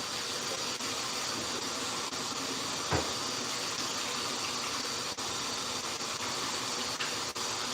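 Chicken wings rinsed under a running tap make a steady, close rush of water with a soft hiss throughout and one brief knock partway through.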